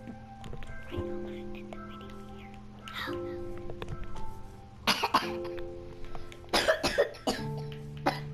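Several coughs break out in the latter half, sharp and close, over a quiet room with faint murmured voices and light background noise.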